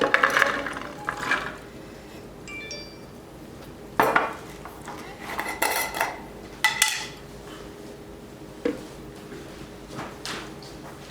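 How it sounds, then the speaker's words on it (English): Chickpeas go into a bowl or food processor while making hummus from scratch, giving a few sharp clattering hits and rattles over a faint background hum, followed by softer scattered clinks. "Add the chickpeas."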